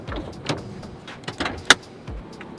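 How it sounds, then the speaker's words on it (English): Opening the hood of an Infiniti G37x gives a few soft clunks and thumps, then one sharp metallic latch click near the end, all close and fairly quiet. "So actually, let me open up the hood."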